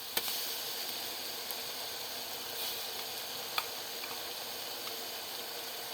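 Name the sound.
ginger garlic chili paste frying for biryani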